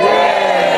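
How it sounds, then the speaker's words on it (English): A brief, loud burst of audience cheering and whooping at a Beacon Margate comedy review show, a dense wall of voices lasting under a second. "Give us a cheer, all those people that haven't seen me before"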